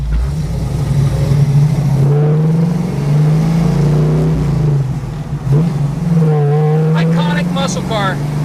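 A 1970 Dodge Challenger muscle car with a 440 cubic inch V8 rumbles and revs close by, its deep engine note rising and falling steadily throughout, with brief higher tones near the end.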